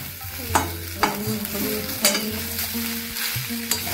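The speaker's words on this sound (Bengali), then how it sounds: "এবার আমি সবগুলোকে একসঙ্গে মিশিয়ে কিছুক্ষণ ভেজে নেব।" Fried peanuts and chana dal with curry leaves being stirred in hot oil for tamarind rice, giving close sizzling under rhythmic spoon scrapes about every half second, with no talking.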